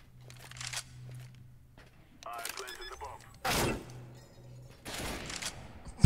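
Gunfire in the shooter CS:GO comes as sharp bursts and shots among clicks and footsteps, interrupted by a couple of loud, close reports. Players talk in French in the background.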